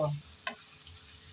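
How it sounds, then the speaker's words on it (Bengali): Shrimp and potatoes frying in oil, with a sizzle fading after a moment and two brief scraping stirs of the spoon against the pan, close and fairly quiet. "এখন নেড়ে চেড়ে আমি চিংড়ি মাছ শুদ্ধ আলুর সাথে ভালোভাবে ভেজে নেব"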